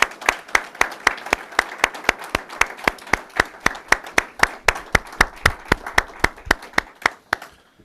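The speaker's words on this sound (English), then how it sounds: "Let's give them just a big round of applause" Crowd applause at a Memorial Day ceremony in Montclair honoring veterans, heard as a loud, regular run of sharp, close claps, likely from one nearby clapper, over a softer crowd, continuing for nearly eight seconds before stopping.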